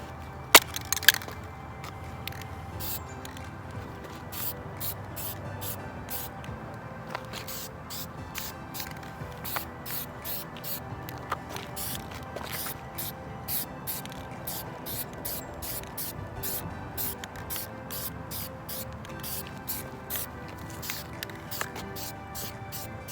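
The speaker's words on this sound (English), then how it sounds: "I'm first going to put on a light coating of paint, just kind of what they call a tack coat" A light tack coat of POR15 paint sprayed onto metal parts for a 1978 Ford F-350 rebuild: a steady close hiss overlaid with quick, regular ticking bursts throughout.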